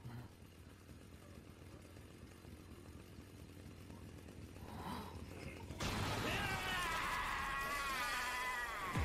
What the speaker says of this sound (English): I hear chainsaws.